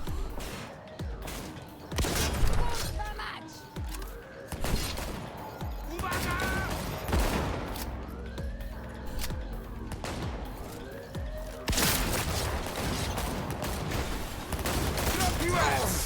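Gunfire in the video game Cyberpunk 2077: repeated loud shots and bursts of rapid fire mixed with crashes and booms, intense and close throughout, while someone speaks over the combat.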